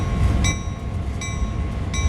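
A GP38-2 diesel locomotive rolls along in the simulator game Train Sim World 2, with a heavy low engine rumble and a few regular clanking wheel beats on the rails.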